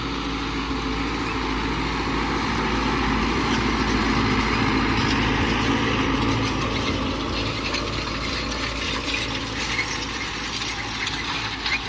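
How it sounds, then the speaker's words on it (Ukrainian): An MTZ-892.2 tractor pulls a KPS-4.2 cultivator through an autumn field, its engine droning loud and steady alongside continuous mechanical rattling and clanking from the implement. "Культивіруємо новим трактором, бо тим вчора навоз возили, кун підцеплений."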